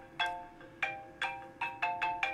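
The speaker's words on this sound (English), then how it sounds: "Sorry about my ringtone, it's kind of goofy." A goofy phone ringtone goes off in several quick bursts of bright, bell-like chimes at an uneven rhythm, fairly faint, with no speech over it.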